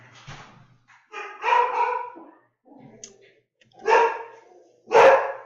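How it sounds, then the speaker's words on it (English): A dog indoors gives several separate barks and yips in short bursts with quiet gaps between them. The barks are fairly close and moderately loud, with faint clicks in between. "I'm back because the dog was barking"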